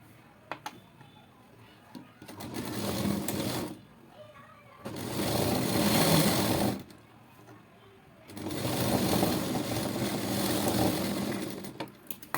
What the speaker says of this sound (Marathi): अशा पद्धतीने आपण शिलाई मारून घ्यायची आहे